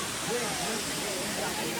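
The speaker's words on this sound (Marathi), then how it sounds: "तुम्ही बघू शकता ते पाणी पडतंय वरून" Water pouring down from a height at Rock Garden in Chandigarh on a crowded day, a steady rushing wash heard under a speaking voice and crowd noise.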